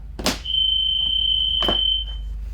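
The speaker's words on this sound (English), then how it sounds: "They open and the alarm goes off." A bus emergency exit alarm sounds a steady high-pitched electronic tone continuously, bracketed by two loud clunks of the exit opening and closing.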